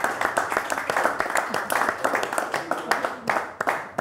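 A studio audience claps in a brisk, uneven round of applause, with individual handclaps clearly audible, while a voice talks over it.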